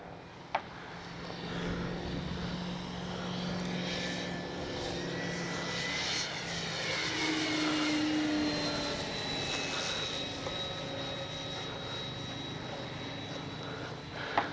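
A radio-controlled model F4U Corsair warbird's engine whines steadily, its pitch rising and falling as it passes overhead, with faint wind noise and a couple of sharp clicks.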